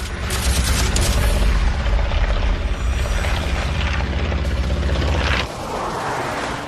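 A WWII fighter plane's machine guns rattle in rapid bursts over the loud, sustained roar of the aircraft engine, close and dense before cutting away.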